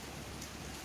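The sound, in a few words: rain falling in Kuantan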